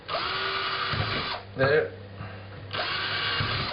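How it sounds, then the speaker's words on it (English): A handheld power drill bores small holes through a homemade bracket for a kick drum pedal, whirring steadily in two bursts separated by a brief pause in which a voice speaks. "So I'm going to drill two little holes through here."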